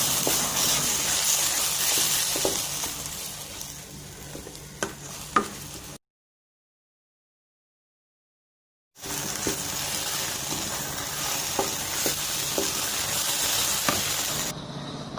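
Curry leaf chutney mixture for thuvaiyal being stirred in a pan, a steady scraping sizzle with a few sharper clicks of the spoon, cut off by a few seconds of silence partway through before the stirring resumes.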